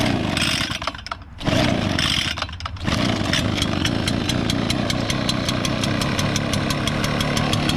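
An Echo leaf blower, left sitting for a year and already warm, starts up with a couple of sputtering dips, then settles into a loud, steady buzzing engine drone close by.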